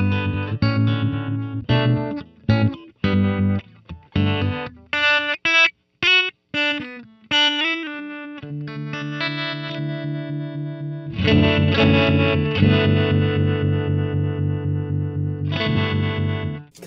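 Electric guitar run through a Coppersound Loma Prieta tremolo pedal in ramp mode, with choppy pulsing notes that speed up and slow down, then sustained distorted chords swelling with modulation, played loud and alone without any voice.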